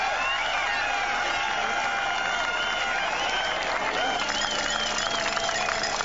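A large crowd at the 1996 Ironman Roth triathlon in Germany keeps up a steady wash of cheering and applause, loud and continuous throughout, with voices mixed into the roar.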